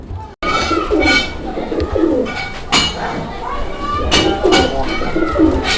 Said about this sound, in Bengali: দর্শক দেখছেন কবুতর কীরকম ডাকের কবুতর মাশাল্লাহ একদম ভরপুর ডাকের কবুতর